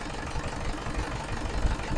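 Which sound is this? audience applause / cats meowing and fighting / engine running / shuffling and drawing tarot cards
engine running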